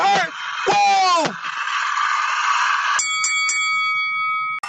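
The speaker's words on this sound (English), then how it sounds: "Ali was saved by the bell." A boxing ring bell clangs several times in quick succession at a heavyweight bout, sounding over a loud crowd and excited commentary.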